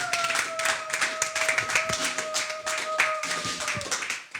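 A church congregation applauds during a French-language service, with steady, dense clapping carried on throughout and a sustained musical tone beneath it that fades out near the end.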